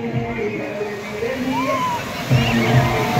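Waves of water washing in, a continuous sloshing and rushing close by, with voices heard faintly over the water.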